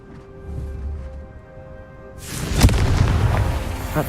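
A Confringo spell blast in the video game Hogwarts Legacy: a quiet hum-filled lull, then a sudden booming explosion with one sharp crack, followed by a rumbling, crackling tail that stays loud to the end.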